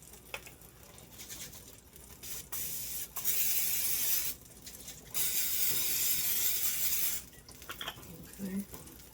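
Cooking spray hisses from a can onto a pan while pancakes are made from a Betty Crocker mix, two bright sustained bursts of spray a second or two long, close and clear against quiet kitchen background.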